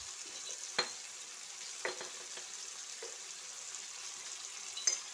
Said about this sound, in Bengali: দিয়ে আবার মশলাটা বেশ ভালো করে নাড়িয়ে নেব